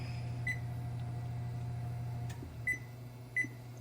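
A kitchen timer goes off while cherry pie filling is stirred on the stove: three short, high beeps, spaced unevenly, sound over a steady low hum.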